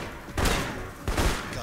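Gunfire in the video game Alpha Protocol, two bursts of rapid shots less than a second apart, loud and close with a short ringing tail.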